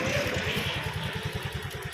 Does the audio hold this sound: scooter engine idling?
yes